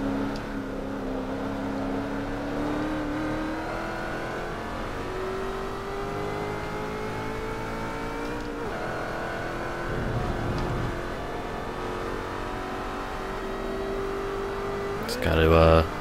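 A race car engine in Forza Motorsport 3 holds a steady, fairly low rev with a sustained tonal drone, then rises briefly near the end, while someone talks over it.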